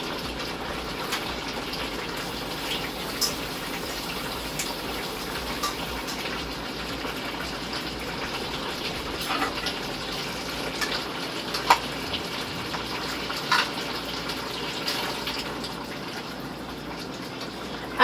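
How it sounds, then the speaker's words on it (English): Water pours steadily into a pot, a continuous close rushing gush that holds at an even level throughout, with no talking. "I'm just going to add a little bit of water to this."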